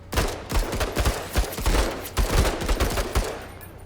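Rapid bursts of video game gunfire crack out in a dense, irregular stream, loud and close, with short pauses between volleys during a tactical suppressing firefight.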